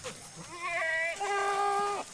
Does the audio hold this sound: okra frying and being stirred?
no